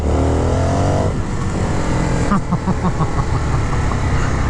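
2023 Indian FTR R Carbon 1200 motorcycle engine burbling on a wet road, a rising then falling tone followed by a rhythmic popping burble, close up under steady wind noise.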